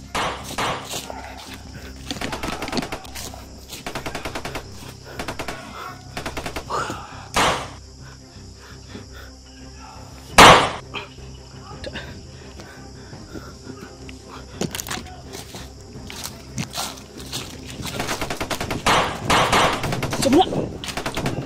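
Sniper and machine-gun fire in a combat video game: scattered sharp gunshots and rapid bursts, one very loud close crack, mixed with ambient noise and occasional voices.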